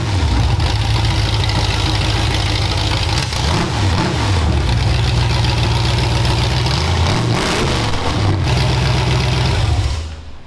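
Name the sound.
derby car engine fired up for the first time, revving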